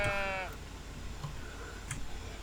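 A sheep in the video game Tiny Glade gives one short, clear bleat when petted, followed by quiet ambient game sound with faint ticks.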